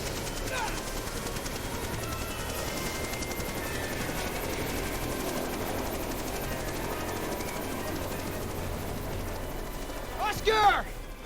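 Helicopter in the Jurassic Park: The Game video game, a steady rotor and engine drone running beneath loud gunfire-like bursts and voices, swelling into a brief louder surge near the end.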